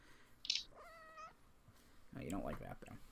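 A pet cat howls and meows from below, a short rising harmonic cry followed by a brief pause, then a person talks nearby over the faint room background.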